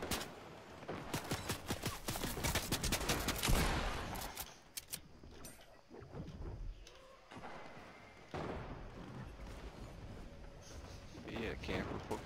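Bursts of gunfire from the video game Fortnite crackle in rapid volleys, with loud clusters early on and scattered shots and thumps later, under the noise of the game.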